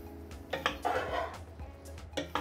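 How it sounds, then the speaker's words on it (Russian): A spoon stirs pasta with canned stewed meat in a pan, giving a few close scraping and clinking bursts against the metal, irregular and fairly quiet. "Так, теперь перемешиваю."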